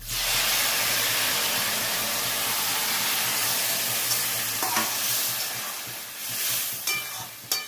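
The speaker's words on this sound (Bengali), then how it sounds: "নাড়ানাড়ি করে নিই, তারপরে জল দিচ্ছি। মশলা ধোয়া জলটা এবার দিয়ে দেবো।" Veg Dalia being stirred in a hot pan gives a steady, loud sizzle and scraping hiss, then spice-washing water is poured in, bringing a few sharp splashes and a fading, uneven hiss toward the end.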